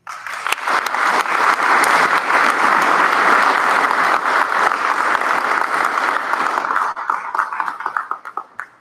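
A roomful of people at a recovery meeting claps to welcome a speaker to the front, close and loud, a dense steady patter that carries on for several seconds before thinning out into scattered final claps.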